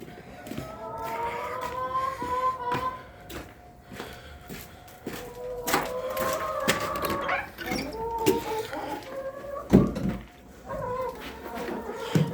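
Chickens being let out of their coop, clucking and calling in a scattered run, with footsteps and rustling close by and a few sharper knocks.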